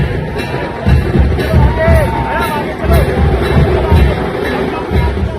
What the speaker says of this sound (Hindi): छोटी बहू के स्वागत के लिए उमड़ी हजारों की भीड़।